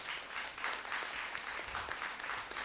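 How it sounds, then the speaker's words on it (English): A crowd at a school speech and debate event applauds, with steady clapping from many hands at a moderate, somewhat distant level that runs evenly throughout. "Round of applause."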